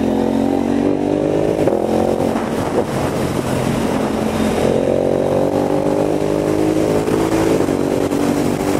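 A KTM Duke 990 motorcycle engine drones and revs while being ridden, rising and falling in pitch under heavy wind rush, loud and close throughout.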